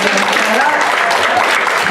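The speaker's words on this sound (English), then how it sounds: "clap it up one more time" Brief burst of steady audience clapping at a live stand-up comedy class show, dense and even throughout, with no break.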